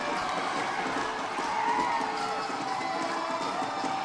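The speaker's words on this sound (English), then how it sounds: "The crowd goes wild." Football crowd at a Philippines Football League match roaring after a goal, a steady dense wash of cheering with no break, loud and continuous throughout.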